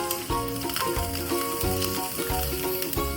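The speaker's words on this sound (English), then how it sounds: "So once I stir fry this" Chili, ginger and garlic paste with goda masala and spices sizzle steadily as they are stir-fried for a Maharashtrian cauliflower rassa, under prominent rhythmic background music.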